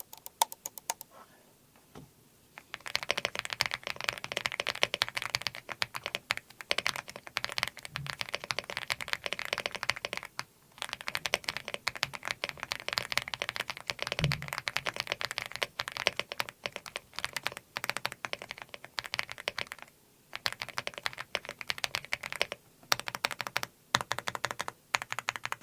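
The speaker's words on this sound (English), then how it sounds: "I'll let you guys hear how this sounds" Continuous typing on a mechanical keyboard, a dense run of clacky keystrokes at steady speed with a few brief pauses, close up and without talk.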